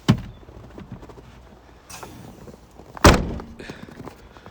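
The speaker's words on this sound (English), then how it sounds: "And if we shut the door," Two heavy, close thunks as the door of a Honda Element camper is pushed shut, one at the start and a louder one a few seconds later, with quiet shuffling between.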